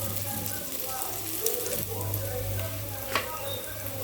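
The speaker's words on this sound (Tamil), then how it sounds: "இப்போ நம்ம வந்து இந்த புளியை கரைச்சி இதில் விட போகிறோம்" Dissolved tamarind water poured into a sizzling pan while cooking a tomato gravy, giving a steady frying hiss with a few sharper splashes and a faint low hum underneath.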